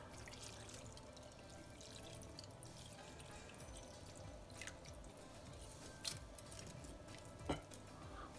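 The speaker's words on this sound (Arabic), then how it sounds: "غادي هنايا عندي الماء دافي يعني تقريبا بارد، غادي نكبو على هاد الفداوش" Lukewarm, nearly cold water poured over rice vermicelli in a kitchen, a soft steady splashing and trickling with a couple of sharper drips near the end, heard close and alone.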